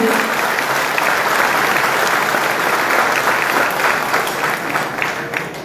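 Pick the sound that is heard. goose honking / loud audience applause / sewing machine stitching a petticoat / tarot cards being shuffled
loud audience applause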